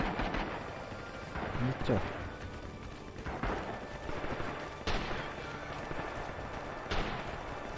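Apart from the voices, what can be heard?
mortar artillery fire in the video game Rising Storm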